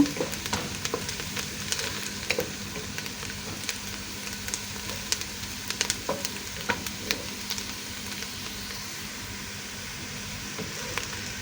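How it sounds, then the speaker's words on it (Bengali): Steady crackling sizzle of spice paste frying in a hot pan, with scattered sharp pops and spatters throughout, close and fairly loud. "আমি পেস্টটা লাল করে ভেজে নিব এখন"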